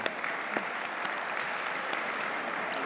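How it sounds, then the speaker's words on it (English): A dinner audience at the Connexus Arts Center breaks into steady, loud applause, a dense wash of clapping with a few sharper claps standing out, no voices over it. "How about joining me in a round of applause for the great crew here at the Connexus Arts Center"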